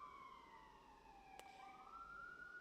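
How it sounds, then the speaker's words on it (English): A police or emergency siren wails faintly in the distance, its rising and falling tone sweeping steadily behind quiet room noise with no talking. "Damn, siren in the background"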